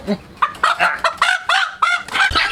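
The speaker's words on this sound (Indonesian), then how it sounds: "Ayam jago kesayangan Babe si Leler" A pet fighting rooster being fed gives a run of close, loud clucks and short squawking calls in uneven bursts, with no other sounds around them.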